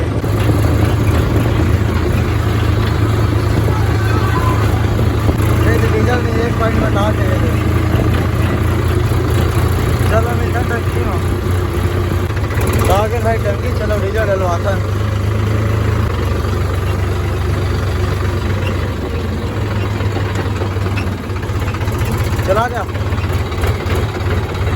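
A diesel tractor engine idles steadily with a low, throbbing drone that shifts slightly in pitch partway through, while people talk over it.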